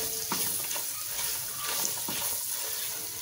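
Chicken pieces with black pepper and spices stirred in a frying pan, a soft sizzle under repeated scraping and clinking strokes, close by with no talking.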